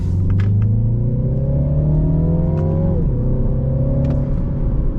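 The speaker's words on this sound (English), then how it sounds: "I love that little blow-off valve. When you take off your foot off, you can hear that turbo spew" A 2024 Mini Clubman's turbocharged four-cylinder drones loud and close, its pitch climbing steadily before dropping abruptly midway. Short airy hisses flicker near the start and again near the end.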